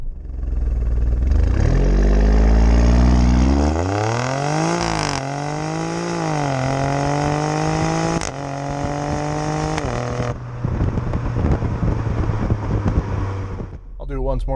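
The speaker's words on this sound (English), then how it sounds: "you get that absolutely phenomenal sound out of the rear exhaust" A 2019 Alfa Romeo Stelvio Quadrifoglio engine revs hard through several rising gear pulls, its rear exhaust growling loudly, then settles to a lower rumble.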